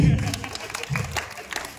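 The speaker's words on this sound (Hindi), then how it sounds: "तालियां हो जाए" Studio audience applause on a comedy show: brief bursts of clapping mixed with talk and crowd noise, close and lively for under two seconds.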